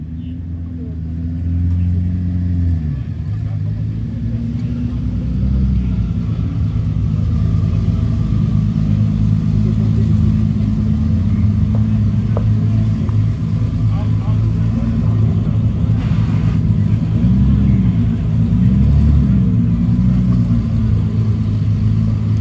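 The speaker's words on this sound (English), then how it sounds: "Different kind of music as the cars coming out of the water box." Drag racing cars launching out of the water box at a drag strip, a loud, steady low engine rumble that holds for the whole stretch with a brief lull near the start, while an announcer talks over it.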